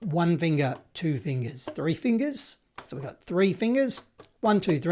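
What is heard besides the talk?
No everyday noise stands out behind the speech.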